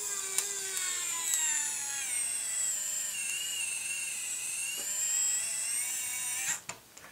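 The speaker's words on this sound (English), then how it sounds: "I'm going to use the battery powered screwdriver to screw it in." A battery-powered screwdriver drives a screw into an aileron servo mount on a model airplane, a steady high-pitched whine that rises slightly as the screw tightens, heard close and alone for several seconds before stopping with a few faint clicks.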